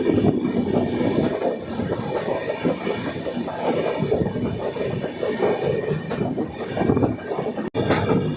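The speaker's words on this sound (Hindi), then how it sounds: "दोस्तों 2 माउंटेन के बीच से हमारी ट्रेन आगे निकल रही है।" Danapur Koderma Intercity Express rolling between two mountains in Bihar, a steady, loud rumble of wheels and carriage noise with no talk over it.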